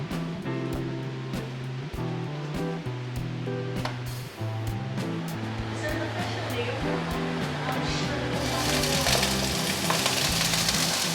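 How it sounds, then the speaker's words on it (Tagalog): Onion, garlic and ginger sautéing in oil in a pan, a steady close sizzle with stirring clatter, under music and a quiet voice, swelling louder toward the end. "Lalagyan natin ng mantika kasi nga igigisa muna natin yung sibuyas, bawang at saka luya"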